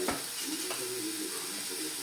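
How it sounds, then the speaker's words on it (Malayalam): Green chilli, tomato, onion and curry leaves sautéing in a pan for chicken curry, giving a steady close sizzle with a few soft stirring scrapes and no talking. "ഇനി പച്ചമുളക്, തക്കാളി, സവാള, കറിവേപ്പില കൂടിയിട്ട് വഴറ്റിയെടുക്കുക."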